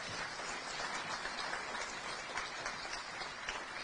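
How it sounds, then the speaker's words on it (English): A business audience including many women executives claps at a financial regulator's event, a steady dense patter of hands that fills the space evenly without a break. "I think everyone should clap."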